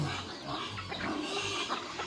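Low grunting from a farm pig, a few rough snorts close by with faint background noise.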